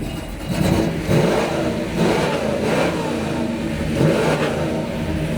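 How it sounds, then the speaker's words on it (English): A 1967 Pontiac GTO Tribute V8 is revved repeatedly up close, a throaty rumble swelling in short bursts about once a second over a steady idle. "It's got a great GTO sound as well."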